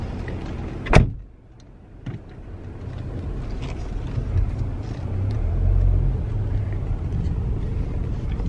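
A car's power window motor whirs steadily for several seconds after a door thump, close by inside the car, with the engine idling underneath; the window is faulty.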